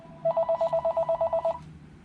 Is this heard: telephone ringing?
yes